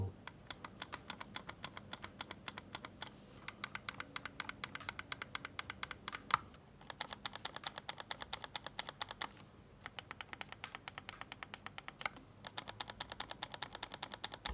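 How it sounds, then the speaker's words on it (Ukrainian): Side buttons on a 2E Gaming HyperDrive Pro gaming mouse click in rapid, crisp bursts, close up, with short pauses between rounds of clicking. "Клік бокових трохи тугий, але, як на мене, більш чіткий, ніж в G Pro Wireless"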